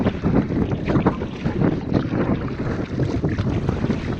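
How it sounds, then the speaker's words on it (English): Wind buffets the microphone beside a small river on the Mississippi in Northern Minnesota, a loud, gusty roar with low rumbling bursts and faint lapping water. "Even when the river's this small, I can tell how windy it is today."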